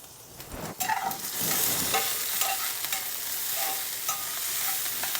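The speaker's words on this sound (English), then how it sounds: "Let's give this a little stir." Sausage and green onions frying in a pan as a spatula stirs through them, a loud steady sizzle broken by scraping and light clicks of the utensil, close and without talk.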